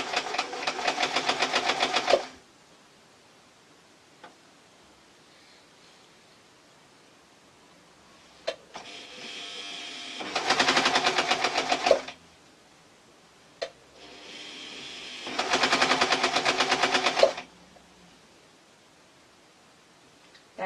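Sewing machine stitching a French seam on a t-shirt dress, running in three steady bursts of about two seconds each, with quiet pauses and small clicks between them, fairly close and alone.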